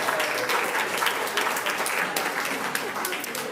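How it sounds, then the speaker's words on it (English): A final round of audience applause for a contestant at the Great Summerset Challenge Grand Final, dense continuous clapping from many hands with voices mixed in underneath. "A final round of applause"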